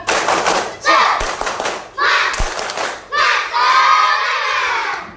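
A classroom of students does a rhythmic spirit clap during a lesson, with loud bursts of clapping and chanting voices arriving in short grouped phrases separated by brief gaps, some thumps in between.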